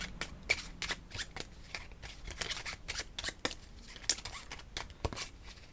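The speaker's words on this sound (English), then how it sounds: "Give these a shuffle, like so." A deck of cards being shuffled for a tabletop board game, a series of quick crisp riffling snaps and flutters in irregular bursts, close and fairly quiet with no talking.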